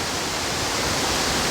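A waterfall beside a footbridge in Nainital roars as a steady, dense, close rush of falling water that fills the whole moment with no break.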